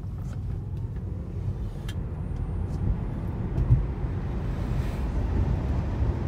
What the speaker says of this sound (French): On tourne et je vais accélérer de ouf.